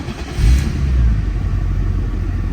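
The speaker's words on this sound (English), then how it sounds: "Do a cold start here as well." A 1994 BMW E36 M3 engine, 128,000 kilometers, cranks on a cold start and catches, settling into a steady low rumbling idle, close and loud, with no talking.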